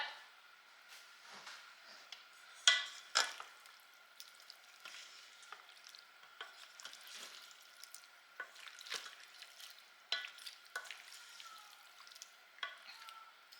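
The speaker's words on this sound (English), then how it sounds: "All right, we will give it a little bit of a mix" Soft wet scraping and clinking as a casserole mixture with milk is stirred in a bowl, faint and intermittent with a few sharper knocks of the utensil, no talking.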